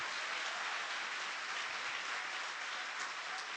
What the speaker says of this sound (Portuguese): Tem que aplaudir mesmo